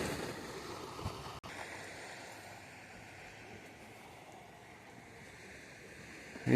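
Soft, steady wash of waves at Lido Sunrise Beach in Italy, a faint distant surf hiss with light wind, no voices.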